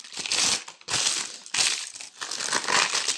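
A sheet of paper for handmade paper flowers is crumpled in four crisp, crackling bursts with short pauses between them, close up and moderately loud, with no speech.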